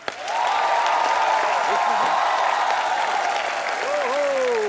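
A comedy-show studio audience applauds as a guest choreographer walks on. A broad, steady wash of clapping holds throughout, with a voice and music-like tones sounding over it.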